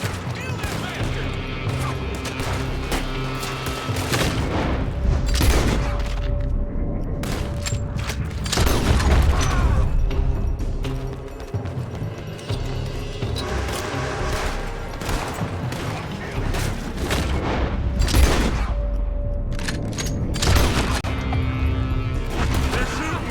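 Red Dead Redemption 2 shootout at Beaver Hollow: repeated rifle and pistol shots crack in dense volleys, near and far, with occasional crashes, as characters shout over the fighting.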